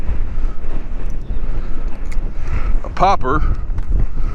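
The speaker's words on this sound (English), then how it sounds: "the wind is blowing really good" Strong wind buffets the microphone outdoors on a fishing spot in Port O'Connor, a steady rumbling roar with gusts throughout while someone talks over it.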